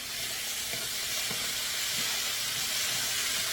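Garlic and juice sizzling in a pan while cooking Portuguese-style stew meat, a steady close hiss of frying with small pops and crackles throughout.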